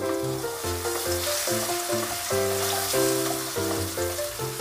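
Ginger garlic paste sizzles in a hot pan for a home-style mushroom curry, a steady hiss of frying that sits under prominent background music throughout.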